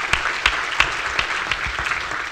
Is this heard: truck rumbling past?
no